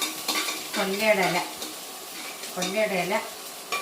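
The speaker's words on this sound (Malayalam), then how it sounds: "കടുക് പൊട്ടിച്ച എണ്ണയ്ക്കകത്തിട്ട് വഴറ്റുക" Kanthari chili leaves are sautéed in coconut oil seasoned with popped mustard seeds, giving a soft close sizzle and stirring scrape, with a voice speaking over it in two short bursts.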